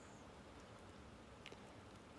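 Rain and wind beat on a tin roof as a faint, even hiss of steady downpour, continuous and distant-sounding, with no voices.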